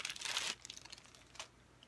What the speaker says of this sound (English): All right, so this is in a plastic bag.